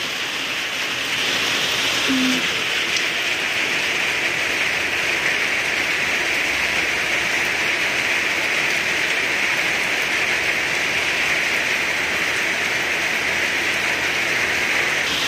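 Steady rain falling outdoors, a dense, continuous hiss holding at an even level throughout, with no voices.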